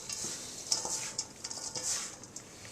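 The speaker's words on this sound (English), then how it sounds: "So I keep mixing it and keep mixing it" A spoon works butter into a stiff Christmas pudding mixture in a bowl, giving soft irregular scrapes and clinks against the bowl. The sound is close and moderately quiet, with no talking.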